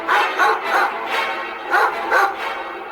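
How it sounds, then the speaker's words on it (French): Hunters' dogs bark repeatedly, about six loud barks in an uneven rhythm, close by with no other sounds around them. "Et ils avaient des chiens."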